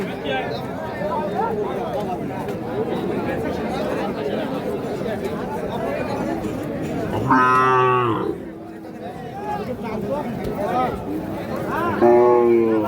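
Cows moo loudly at a rural cattle market, two long calls standing out near the middle and end over a constant crowd chatter and nearby talk.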